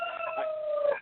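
A rooster gives one close, clear crow, a single drawn-out call lasting about a second that rises and then trails off.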